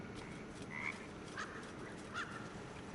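Frogs croaking in the video game Baldur's Gate 3, a few faint, widely spaced croaks over a low, steady ambient hum.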